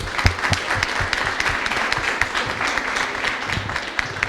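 A podcast studio audience claps for Mônica, a steady, dense round of applause sustained throughout.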